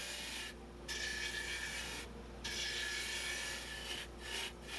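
Wood lathe spinning a maple bowl at about 2,000 RPM while a sharp tool cleans out the inside, giving a steady close scraping rasp that cuts off briefly several times as the tool lifts away.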